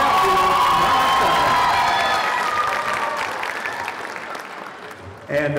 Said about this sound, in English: let's give one big round of applause to our junior London champion, Masa.